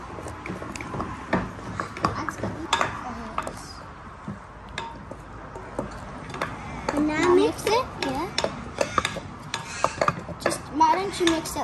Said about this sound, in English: You get it so it's off the sides and just keep stirring it like that